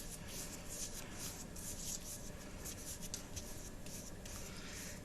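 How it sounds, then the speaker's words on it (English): A paintbrush loaded with watercolour paint drags steadily across paper, giving a soft, continuous close-up rasp with slight strokes, alone without talk. "And then I just sort of gently pull my paint along my paper."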